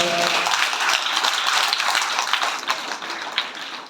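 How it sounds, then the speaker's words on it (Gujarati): A crowd claps together in a dense burst of applause at the opening of a primary school children's fair, loud at first and thinning out over a few seconds. "તો તાળી પાડીને વધાવી લો।"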